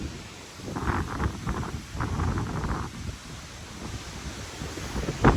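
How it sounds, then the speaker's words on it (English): Strong, gusty wind buffets the open shoreline of a Boundary Waters lake along the Sioux Hustler Trail, a steady broadband roar that swells and eases for several seconds with no voices. "Super windy today."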